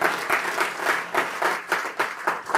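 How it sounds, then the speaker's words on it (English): An audience at a talk applauds loudly, a steady, close patter of many hands clapping throughout the short stretch. "Round of applause."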